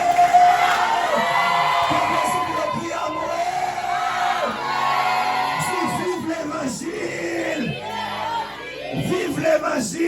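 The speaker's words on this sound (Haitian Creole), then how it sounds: "Acclamez Jésus très fort!" A church congregation loudly cheering and acclaiming Jesus: a dense crowd of shouting, whooping voices that holds steady throughout, near and energetic, with yells rising over the mass.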